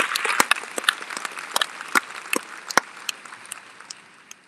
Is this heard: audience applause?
yes